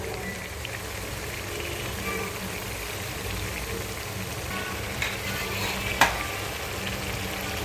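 Tomatoes for pav bhaji cook in a pan, giving a steady, soft sizzle that runs evenly throughout with a couple of faint clinks near the end.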